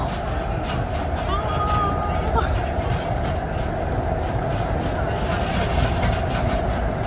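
A passenger train running on rail in Hong Kong, heard from inside as a steady rumbling drone with faint rhythmic clatter, nearing the terminus, with an onboard announcement voice over it.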